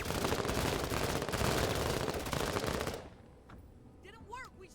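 Heavy rapid gunfire in the video game Menace rattles continuously and loudly for three seconds before stopping abruptly, followed by softer background sound and voices.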